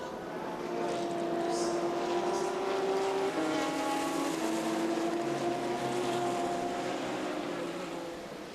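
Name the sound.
GT race cars including a Lamborghini racing at Dubai 24H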